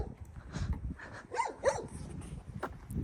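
A dog outdoors giving short yips and whimpering barks at moderate distance, a few brief bursts over low rustling background noise.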